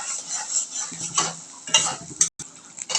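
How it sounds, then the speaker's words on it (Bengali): Ginger-garlic paste is stirred in a frying pan for a cabbage and egg dish, giving short irregular scrapes and clinks over a light sizzle, with a brief silent gap near the end. "আদা রসুন বাটা দিয়ে সুন্দর করে নাড়াচাড়া করে নিচ্ছে"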